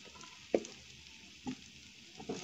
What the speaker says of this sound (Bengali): আলুটারে আমি পাল্লা করিয়া ভাজবো